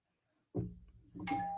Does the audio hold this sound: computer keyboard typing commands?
no